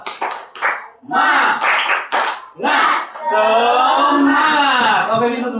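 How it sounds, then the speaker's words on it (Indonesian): A school class joins in rhythmic clapping, then breaks into loud group chanting in unison, the voices close and dominant while the claps come in short bursts at the start. "Oke, tepuk tangan dulu."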